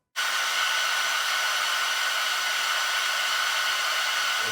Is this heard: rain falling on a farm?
no